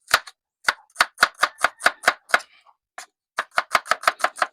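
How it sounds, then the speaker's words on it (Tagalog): Knife chopping an onion on a cutting board, with sharp, fast, evenly spaced cuts in two bursts separated by a short pause, close and clear with no talking. "Ang ating sibuyas naman ang ating hiwain."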